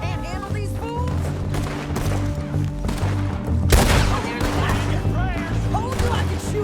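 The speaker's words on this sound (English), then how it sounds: "Told you I could shoot a gun, didn't I?" Gunfire in Red Dead Redemption 2 rings out as a dense shootout, with repeated shots and a louder burst near the middle, layered over background game sounds and people talking.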